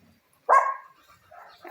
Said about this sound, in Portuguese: Outro cachorro ali atormentando os outros.